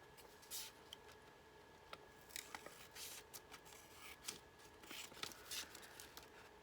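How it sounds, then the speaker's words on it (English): Scissors snipping along the edge of paper, faint, close crisp cuts in an irregular series over quiet room hum. "Actually, I think I'll cut this edge to make it"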